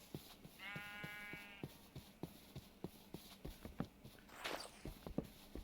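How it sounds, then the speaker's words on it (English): Sheep bleat once in a blocky Minecraft-style game world, a short tremulous call rising above steady soft hoof-like footsteps that keep clopping throughout. "Ah, some sheep."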